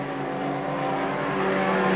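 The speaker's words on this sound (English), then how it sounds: "Then there's a wall of cars coming out of Palmer's Corner." Junior sedan race cars pour out of Palmer's Corner in a night race, a dense pack of engines roaring together at steady, slowly rising volume with no voices over it.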